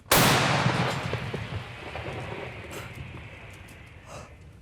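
A single loud gunshot from a frontline position near Kupiansk, a sharp blast at the start followed by a long decaying rumble with faint background noise.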